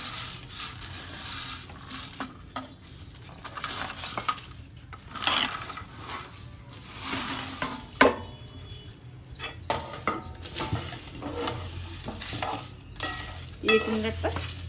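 Whole spices dry-roasting for homemade garam masala, stirred and scraped around a pan with a metal spoon, rhythmic rattling scrapes and clinks over a faint sizzle, close and continuous with no speech.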